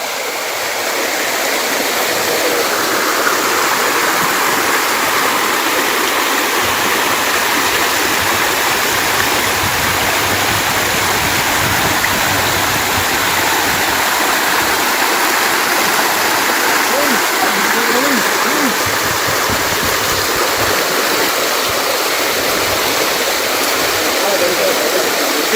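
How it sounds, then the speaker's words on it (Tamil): A mountain stream near Kannupulimettu Falls rushes loud and steady, a continuous close roar of flowing water with no break for the whole stretch. "இன்னொரு ஓடையை நம்ம கிராஸ் பண்ண வேண்டியதா இருக்கு."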